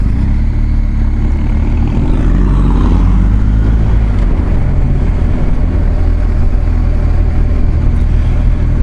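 A BMW R1250 GS HP motorcycle engine drones steadily at close range, changing pitch as the rider shifts down from fourth to third gear, with heavy wind rush over the whole ride.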